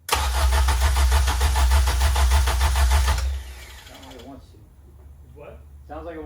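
A K24 engine swapped into a first-generation Honda CRX cranks over loudly for about three seconds during a first start attempt, a steady rhythmic churn that cuts off abruptly, followed by quieter moments with people talking nearby.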